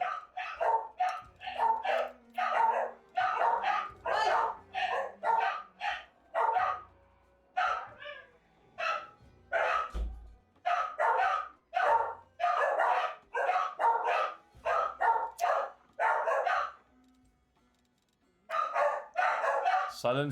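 A dog in the Pathfinder: Wrath of the Righteous video game barks in quick repeated bursts, loud and close, nearly continuous for most of the stretch with a short pause near the end.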